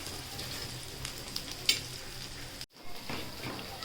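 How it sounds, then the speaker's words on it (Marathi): Slices of masala bread fry in oil on two tawas, giving a fairly quiet, soft sizzle with light crackles and a brief dip partway through. "आपण इथे दोन्ही साईडमध्ये तवे ठेवलेले आहेत आणि दोन्ही साईडला दोन दोन ब्रेड ठेवलेले आहेत फ्राय करण्यासाठी"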